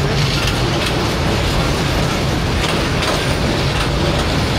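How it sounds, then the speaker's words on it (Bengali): The Kurigram Express, a Bangladesh Railway intercity train, rumbles loudly and steadily across the century-old Teesta rail bridge, a dense continuous roar of wheels and clanking carriages heard up close. "লালমনিরহাট থেকে সরাসরি ঢাকার উদ্দেশ্যে রওনা দিল কুড়িগ্রাম এক্সপ্রেস"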